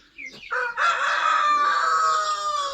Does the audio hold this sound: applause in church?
no